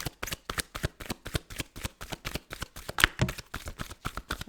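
Tarot cards being shuffled for a reading, a steady run of quick papery riffles and flicks close to the microphone, with no talking.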